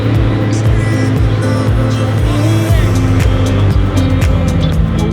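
A McLaren Super Series with a 4-litre twin-turbo V8 revs on an aerodrome runway at a supercar event, a loud, close engine snarl with quick rising and falling pitch sweeps, continuous throughout.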